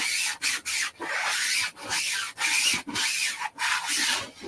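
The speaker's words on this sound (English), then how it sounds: "So instead of that, we're just going to do sanding." Steady rasping strokes of sanding, rubbed back and forth in a regular rhythm with brief pauses between passes, close and moderately loud with no talking.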